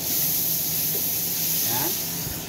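Ginger hitting hot oil for a batchoy broth base, giving a steady, close, broadband sizzle that hisses without break for a few seconds, with faint kitchen clatter underneath.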